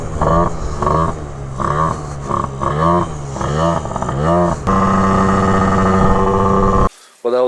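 A Derbi GP1 motorcycle with a 94cc Malossi RC One engine breaks up while being ridden, its loud, close two-stroke note surging and stuttering in rhythmic pulses, then holding a steady buzzing whine before cutting out abruptly.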